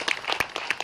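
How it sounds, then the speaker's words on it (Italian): A crowd applauds at an outdoor rally in Piazza Garibaldi, Taranto, a short burst of scattered claps, moderately near and fairly faint. "un applauso molto più grande di questo per Anna Maria"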